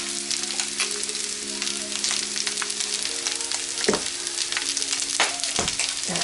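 Brussels sprouts sizzle and crackle steadily in a hot pan with garlic, basil and kosher salt seasoning, with a few louder pops and stirring scrapes partway through.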